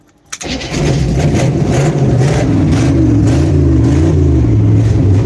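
A vehicle engine cranks briefly, catches and settles into a steady, rumbling idle, loud and close.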